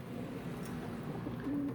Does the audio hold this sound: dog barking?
no